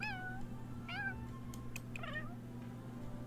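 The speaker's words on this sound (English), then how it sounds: "Maybe we'll give her that meow." A cat in The Sims 4 meows three times, each a short rising-and-falling call, over a steady low electronic hum.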